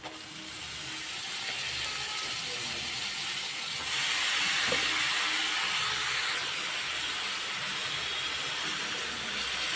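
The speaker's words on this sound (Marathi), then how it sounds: "तर यामध्ये आपण शेपूची भाजी टाकून घेऊ" Dill greens dropped into a pan of fried garlic and chili paste, setting off a loud, steady hiss of frying that swells once the leaves hit the hot oil and keeps going without a break.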